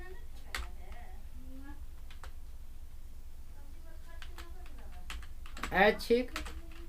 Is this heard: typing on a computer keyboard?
yes